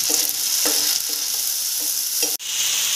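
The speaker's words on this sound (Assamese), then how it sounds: "ইয়াত পিঁয়াজ দিছোঁ। এয়া অকণ ৰঙচুৱা হ'বলৈ দিব পিঁয়াজখিনি" Onions sizzle and fry in hot oil in a pan as the base for a rajma (kidney bean) curry, a steady close hiss broken by a few soft scraping stirs.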